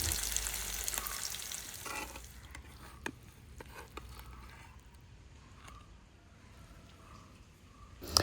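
Mangalorean-style masala fish fries in a pan with a soft, low sizzle. It starts louder, then settles into a faint, steady crackle, with a few small clicks and knocks from the pan.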